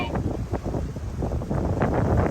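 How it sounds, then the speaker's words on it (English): Strong wind buffets the microphone on a small boat in coastal canals, a continuous rumbling roar with gusting bursts throughout. "It's really windy out."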